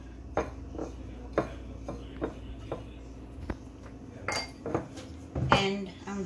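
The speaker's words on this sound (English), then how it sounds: "I'm just gonna mix this" Sesame seasoning is mixed in a bowl with a utensil, giving a run of sharp clinks and scrapes against the dish at an uneven rhythm, close and fairly clear, with a few louder knocks near the end.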